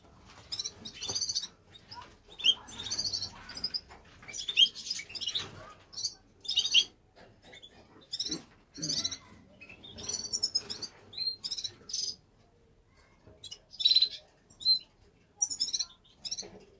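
Goldfinch nestlings chirping in the nest during ringing, with repeated high thin cheeps in short bursts, fairly close and steady throughout.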